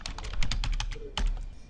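Quick bursts of keystrokes on a computer keyboard, close and clear, in uneven clusters of clicks with short pauses between them.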